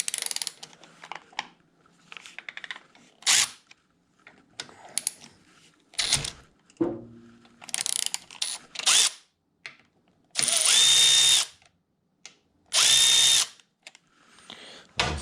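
Power tool whirring in two short loud bursts while loosening bottom fork clamp bolts on a 2005 Honda VTX 1800, after a stretch of clinks and tool handling.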